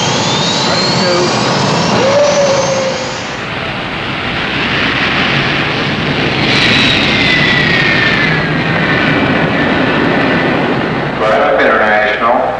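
Jet engines on a 1960s jetliner — a JAL Convair 880, TCA DC-8 or Braniff Boeing 707 — spool up one after another with rising whines over a steady roar, while a voice calls out each engine in turn.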